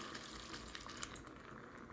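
Water poured into a pan of cooking beef, a quiet continuous splashing fill with faint bubbling and small clinks, heard close and softly throughout.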